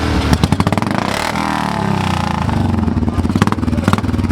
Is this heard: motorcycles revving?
yes